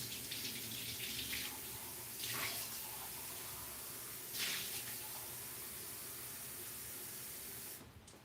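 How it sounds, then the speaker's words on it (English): Water running from a tap into a cooking pot for rice and lentils, a continuous splashing hiss with a couple of louder surges, close and moderate, cutting off near the end; no voices. "Alright, now we're just going to add some water."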